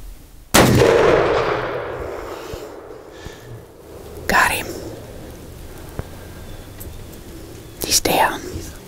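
A single sharp rifle shot rings out during a ranch hunt after quiet whispering, its report decaying over a second or two, followed by fainter knocks and soft whispered voices.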